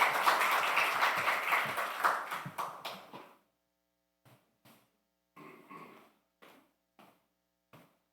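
Congregation applauding at a Korean church service after a missionary report, a loud burst of clapping that fades out after about three seconds, followed by a few scattered late claps in a quiet room.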